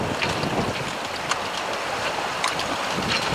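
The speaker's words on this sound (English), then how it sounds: "Lots of white water, and a lot of it's coming in the cockpit too." Waves and white water rush around a sailboat under a number 3 jib in 26-knot wind, a loud, constant hiss and wash with occasional splashes and wind buffeting the microphone, no talking.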